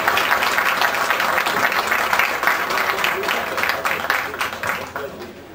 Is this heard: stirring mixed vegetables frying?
no